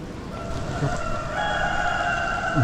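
Rooster crowing somewhere near a long stairway in Kuala Lumpur, Malaysia, a sustained mid-distance call that stretches out over steady outdoor background noise.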